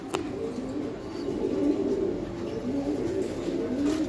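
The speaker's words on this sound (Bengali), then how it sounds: "তো এখানে এক পেয়ার কবুতর আছে" Pigeons coo steadily and softly in low, rolling murmurs that continue throughout, close by, with no talking.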